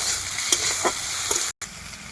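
Onions with garlic paste sizzle and crackle steadily in hot oil close by, browning to reddish, with a few scraping stirs.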